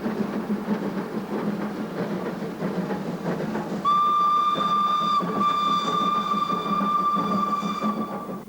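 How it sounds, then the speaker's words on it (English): An Indus Express train rumbles steadily past a late-running service train, and partway through a high, shrill whistle sounds in long, repeated blasts over the continuous rolling noise. "the train pauses and passes a late-running service train"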